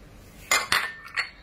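A utensil clinks against a bowl while ingredients including sugar, vanilla sugar, baking powder and baking soda are mixed, three quick, close metallic knocks in a short burst.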